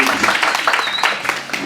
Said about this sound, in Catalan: Podeu aplaudir, si voleu.